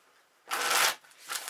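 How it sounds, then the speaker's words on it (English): A Medicine Woman tarot deck is riffle-shuffled by hand: one loud, papery burst of cards, then a softer flutter as they settle, close to the ear and free of talk. "They feel really good in the hand to shuffle."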